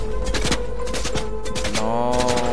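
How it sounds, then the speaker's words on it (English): Rapid assault rifle fire in a video game box fight, loud close bursts of shots rattling continuously with a game tone sounding beneath them. "Stop shooting AR!"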